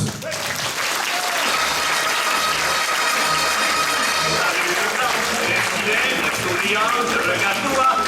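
An audience claps loudly and steadily for about eight seconds to welcome a guest speaker, a Rafale fighter pilot, at a 2014 event. Dense, continuous applause with a few scattered voices mixed in.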